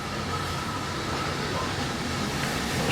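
At a spring steam gala on a heritage railway, a freight train hauled by a visiting Prairie tank steam locomotive rolls in, giving a steady, broad rumble that stays close and constant.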